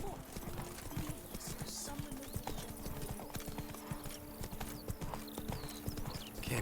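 Roach the horse gallops in The Witcher 3: Wild Hunt, with rapid, continuous hoofbeats clattering steadily throughout and a faint whinny and ambient game sounds in the background.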